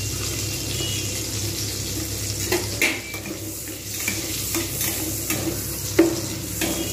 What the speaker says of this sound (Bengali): এই তেলেতেই আমি পেঁয়াজগুলো অল্প করে ভাজবো